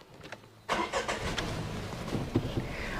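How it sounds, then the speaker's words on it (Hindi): The engine of a Hyundai Accent car cranks and catches, with a sudden loud start followed by a rough, steady idle that settles close by, without any talking. "इंजन अपना स्टार्ट कर लीजिए"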